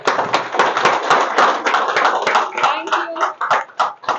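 Steady, fairly loud applause from an audience at a celebration for an Android and iPhone chip-level training course, many hands clapping together throughout, with the claps growing a little sparser toward the end.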